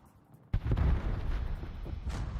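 A torpedo strikes the ship Shiki during a naval warfare game match: a sudden heavy boom hits hard, then a dense rumbling roar lingers and slowly fades across the remaining seconds.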